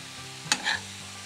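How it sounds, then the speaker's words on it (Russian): Shredded cabbage frying in a pan for a braised cabbage dish, a quiet low sizzle punctuated by a brief sharp scrape or clink of a utensil midway, no talking. "Капуста начинает слегка поджариваться"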